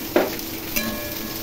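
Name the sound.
stirring bottle gourd and prawn curry in a pan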